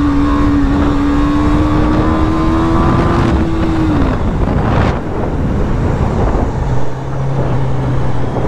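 A motorbike ridden on one wheel passes with a loud, droning engine whose pitch holds and then drops away, heard amid heavy wind buffeting on the microphone, followed by a lower engine note later on.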